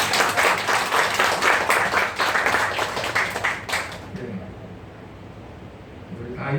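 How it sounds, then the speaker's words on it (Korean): A church congregation gathered for Sunday worship claps together in welcome, the dense applause holding strong for about four seconds before it thins out and fades into room noise. "우리 박수로 좀 환영하겠습니다"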